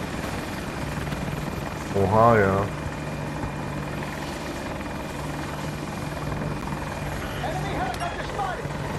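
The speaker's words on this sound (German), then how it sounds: "an enemy helicopter overhead" An AH-64 Apache helicopter in the Battlefield 2042 game makes a steady rotor and engine drone that runs throughout, loud and continuous, with voices briefly talking over it.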